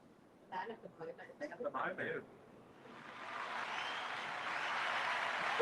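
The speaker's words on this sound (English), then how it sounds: "The crowd clapped." A crowd at a talk on housing and property zoning changes claps, the applause rising gradually after a few seconds of brief speech and holding steady as a broad, moderately loud wash to the end.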